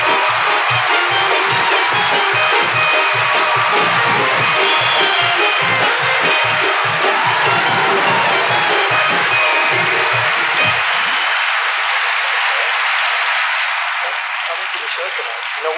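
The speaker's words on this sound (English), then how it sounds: "So let's bring her out with a rousing applause, Eleanor Cody Gould!" A large Carnegie Hall audience at a 1980 comedy and variety show breaks into loud, sustained applause and cheering, a dense roar of clapping with whoops that carries on for many seconds before thinning out toward the end.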